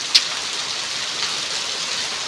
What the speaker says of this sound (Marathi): एवढा धो धो धो धो धो धो पाऊस पडतोय आहे